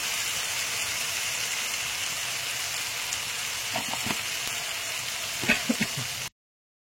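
Spice masala for chicken curry fries in a pan, a steady close sizzle holding throughout, with a few brief stirring clicks near the end before the sound cuts off.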